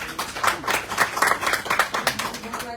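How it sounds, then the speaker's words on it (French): An audience claps together at a live public event in Guadeloupe, welcoming a collections-department manager; the fairly steady, somewhat rhythmic applause lasts under three seconds, with some voices mixed in. "S'il vous plaît, on l'applaudit,"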